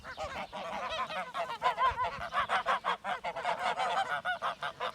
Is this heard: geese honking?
yes